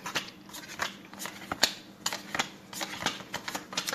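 Tarot cards riffled and shuffled in quick, crisp bursts, a steady flurry of papery snaps close by with no voices.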